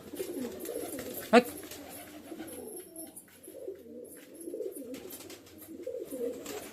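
Soft, repeated pigeon cooing murmurs through the background, with one brief sharp sound near the start and light ambient noise.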